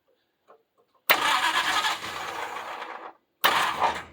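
Starter bumped on a Street Stock Monte Carlo engine during an engine swap: a loud, close cranking burst of about two seconds, a short pause, then a second shorter crank, with no talk.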